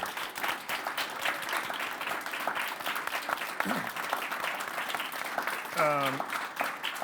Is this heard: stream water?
no